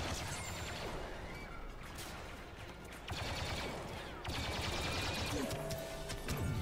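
Gunfire in the video game Star Wars Battlefront 2, a dense, continuous wash of blaster shots and battle noise, steady and fairly loud throughout with sharper cracks scattered across it.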